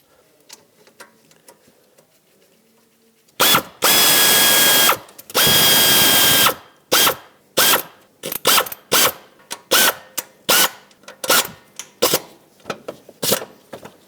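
A hand ratchet tightening the thermostat housing bolts on a 2006-2011 Honda Civic, two long runs of rapid clicking followed by a string of short, sharp ratchet bursts, close and loud, with no talk.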